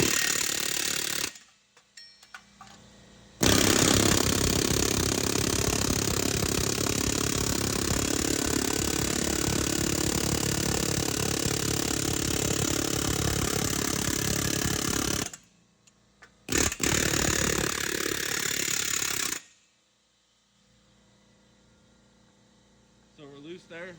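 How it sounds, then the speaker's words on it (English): A pneumatic air hammer rattles continuously at close range while freeing rusted parts on a heavy machine, one long loud burst followed by a couple of short ones, with brief pauses between. "Take an air hammer."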